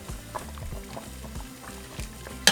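Thick liquid mole de olla being stirred in a pot, with soft repeated sloshing and scraping strokes in a steady rhythm, fairly quiet and close, with no talking.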